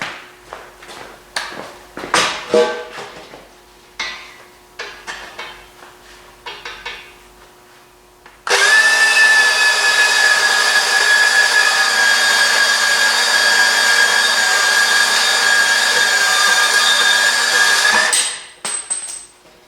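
Milwaukee cordless band saw cutting through a piece of metal in a repair shop, preceded by a few clanks and handling knocks, then a loud, steady whining cut lasting about ten seconds before it stops.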